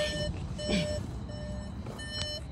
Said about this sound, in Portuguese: Olha que buzininha fez desse carro.